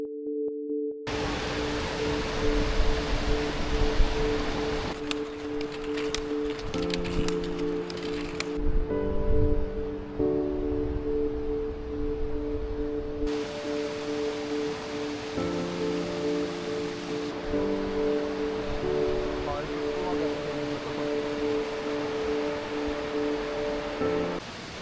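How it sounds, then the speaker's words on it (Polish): Steady rushing of an Alpine waterfall spilling into a small pool at around 2100 m, a constant broad wash of falling water at a fairly close distance, running throughout with no talk over it. "Zobaczcie jaki ładny wodospad."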